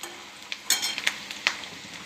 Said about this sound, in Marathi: कांदा चांगला भाजून घ्यायचा आहे आपल्याला